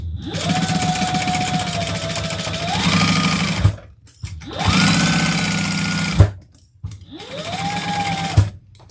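Sewing machine stitching a bag, running in three steady bursts of rapid mechanical whirring that rise and fall in pitch with brief pauses between runs, close and fairly loud.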